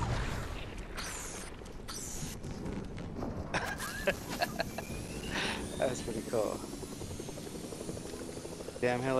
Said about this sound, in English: Damn helicopter too, right underneath you.